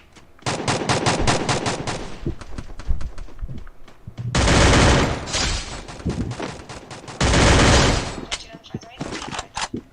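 Rapid automatic gunfire from the Free Fire battle game, played on an emulator, rattles in loud repeated bursts with short pauses between them, close and dominant throughout.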